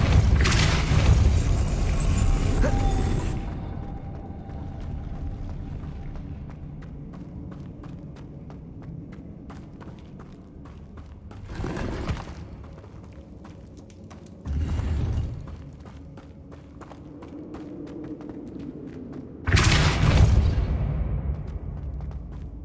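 The Depulso spell is cast in the Hogwarts Legacy video game, heard as loud deep booming blasts at the start and again three times later, with quieter mechanical game ambience and faint clattering between them.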